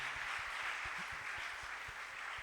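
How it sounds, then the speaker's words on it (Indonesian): Faint applause from a small gathering during a podcast-style event, soft, steady clapping heard from a distance with a few sharper claps standing out. "kita berikan tepuk tangan dulu untuk Koko Aldi"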